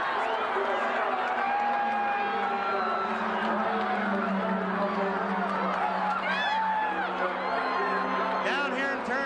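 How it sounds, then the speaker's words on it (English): Indy 500 crowd roaring and cheering from the stands, a dense sustained wall of voices and whoops with a commentator talking over it throughout. "You should hear the crowd."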